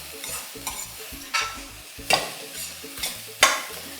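Vegetables sizzle as they are stir-fried on high flame in a large wok, with steady frying hiss and several scraping, tossing strokes of a spatula recurring every half second or so.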